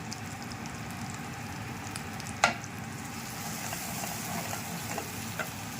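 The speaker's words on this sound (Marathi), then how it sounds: "मसाला चांगला फ्राय होऊ देऊ" Savji and Kolhapuri mutton masala frying in a pan for mutton sukka, giving a steady soft sizzle with one sharp clink of a utensil early on.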